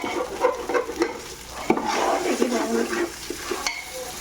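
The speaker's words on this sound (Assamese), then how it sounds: "অলৰেডি ভাজা হৈ গ'ল চচপেনত তেল এৰি দিছে" Ingredients for yakhni pulao fry in oil in a saucepan, a continuous sizzle with scraping stirs and occasional knocks of a utensil against the pan, close and steady.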